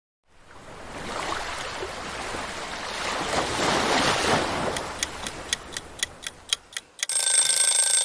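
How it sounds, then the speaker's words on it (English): A kitchen oven timer goes off while cakes bake, giving a string of about eight quick, evenly spaced beeps that run into a loud continuous ring, all over a steady background whoosh. "The timer's gone off"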